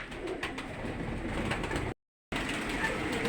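Pigeons coo and flutter close by as they come down to feed, a steady soft burble of bird calls with a brief gap of silence partway through.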